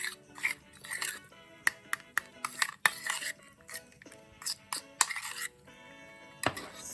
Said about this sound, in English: Now just stir this into the Nutella.